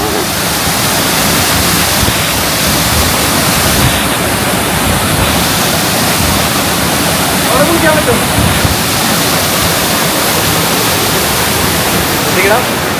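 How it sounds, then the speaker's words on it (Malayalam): A mountain waterfall on the Rudranath trek in the Himalayas roars in a loud, steady, unbroken rush of falling water. "തീരെ വെള്ളച്ചാട്ടം കാണിച്ചു വരാൻ ബുദ്ധിമുട്ടാണ് പക്ഷെ നോക്കിക്കോളൂ പുറകില്"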